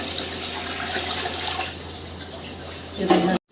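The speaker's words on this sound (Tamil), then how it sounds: "இதில் வந்து அளவு தண்ணி எடுத்து நம்ம ஊற்றிடலாம்" Water runs and splashes steadily into a pot for chicken biryani for 50 people, a continuous broadband pour that briefly shifts in tone near the end.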